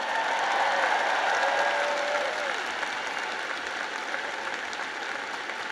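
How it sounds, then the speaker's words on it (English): A large crowd at a University of Alabama graduation gives sustained, steady applause, broad and dense like a packed venue, with a brief cheer or whistle near the start. "let's give a big round of applause to your incredible parents"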